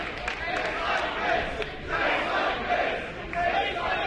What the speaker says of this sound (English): you hear the chants there